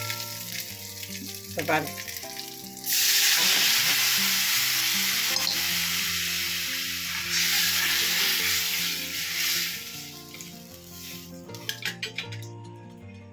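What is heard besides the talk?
crushed garlic sautéing and sizzling in a pan while stirred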